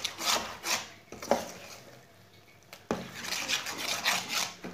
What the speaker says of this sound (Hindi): बेसन को बस जलने नहीं देना, ऐसे ही इसे चम्मच चलाते हुए भूनना। बेसन हमारा भूनना शुरू हो गया है।